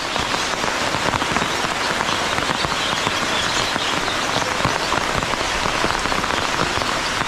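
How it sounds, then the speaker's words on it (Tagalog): Heavy rain pours down steadily in a long-awaited downpour, a dense, constant hiss of drops drumming on surfaces, loud and close with no pauses throughout. "Yung matagal na nating hintay, andito na yung ulan."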